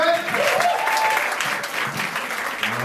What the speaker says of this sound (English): Give another round of applause for your host and MC for tonight